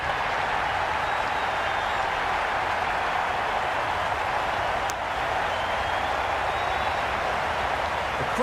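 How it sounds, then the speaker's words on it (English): Raucous cricket stadium crowd in the Cricket 22 video game during an IPL match, Chennai versus Hyderabad, a constant broad roar of distant crowd noise with clapping, steady and loud throughout. "The crowd are really getting quite raucous."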